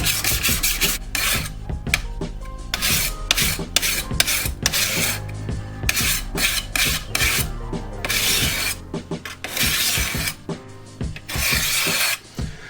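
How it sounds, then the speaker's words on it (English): A horseshoe knife blade is stroked across a sharpening stone in irregular bursts of gritty scraping, close and clear, with short pauses between strokes and no talking. "I'm going to give it a good first sharpen."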